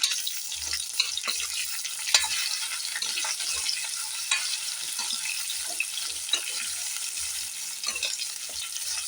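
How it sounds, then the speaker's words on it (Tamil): Steady crackling sizzle of cauliflower pieces frying in ghee, with occasional stirring scrapes, close and continuous. "இதை நம்ம இப்போ நல்லா பொரிச்சு எடுத்துடலாம்."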